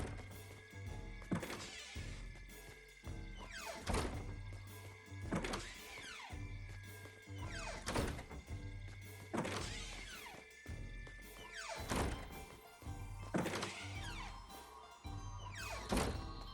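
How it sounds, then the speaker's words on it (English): Doors open creepily in a Fortnite Creative jumpscare build: a steady series of heavy mechanical thunks with sliding whooshes, repeating about every second and a half over a continuous low droning hum. "just the door opening one, where it's like, oh, the doors are creepily opening"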